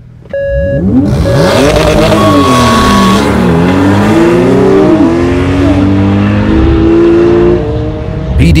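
A Porsche 911 Carrera S on a race track with a corkscrew corner: its engine roars loud and close, the pitch sweeping up and down through hard acceleration and gear changes, continuous for several seconds.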